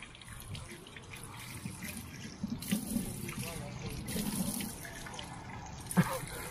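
Free public drinking water tap running in a soft, low stream, with faint splashing and a few small clunks, heard fairly quietly amid background noise.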